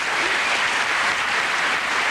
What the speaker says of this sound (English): So big round of applause now for Mr. Paul Daniels.